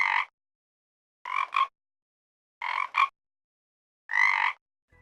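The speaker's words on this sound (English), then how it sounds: "if I hear this frog voice" A frog croaks four times in a slow, evenly spaced series, each call a raspy burst, with the middle two split into double pulses; the calls are close and loud, separated by silence, with no voices.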